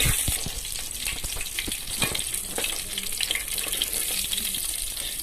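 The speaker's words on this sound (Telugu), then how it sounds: "ఒక ఉల్లిపాయ వేసి బాగా వేపుకోండి" Chopped onion pieces frying in oil in a pan for garlic pickle, a steady loud sizzle with crackles and occasional stirring scrapes close up, with no talk.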